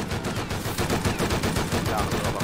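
Rapid bursts of gunfire in a multiplayer shooter game, loud and close, with shots stacking into a dense fusillade and voices faintly mixed in.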